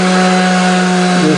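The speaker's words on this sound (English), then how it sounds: "a little bit of aggressive sanding and it'll come out" A loud, steady power tool grinds against wood in a continuous whine, with a slight pitch dip near the end.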